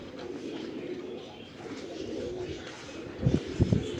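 Rooftop pigeons in Islamabad give a few soft, low coos near the end over a quiet, constant background hum, with no talking.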